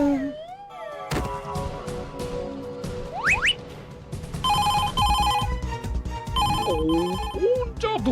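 A telephone rings in a cartoon scene, its bright trilling bursts repeating over background music, effects and other sounds, with a voice speaking between the rings.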